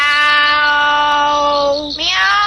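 A cat lets out one long, loud, drawn-out meow that slides down in pitch near the end.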